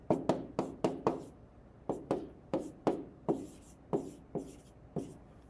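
Pen or pencil writing a sentence on paper, a series of crisp close strokes in an irregular rhythm, each a short scratchy burst with brief pauses between, heard alone.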